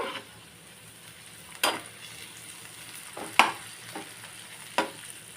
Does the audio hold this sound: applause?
no